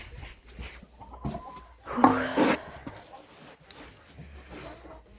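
Cochin chickens cluck softly and intermittently, with one louder squawking outburst in the middle, against quiet background noise.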